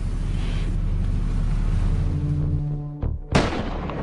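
Snipers fire their rifles together in a film scene about Somali pirates, producing a single sharp, loud crack after a low droning hum, then a brief echoing tail. No one talks.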